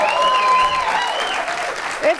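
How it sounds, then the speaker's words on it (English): A studio audience claps at a TV talk show, a loud, sustained burst of applause with someone talking over it and faint whistling tones mixed in. "I appreciate you clapping."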